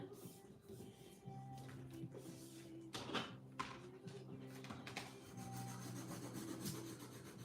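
A paper page is rubbed firmly by hand while a 12x12 Create-an-Album scrapbook is assembled, giving a close, steady scuffing friction over a low background hum.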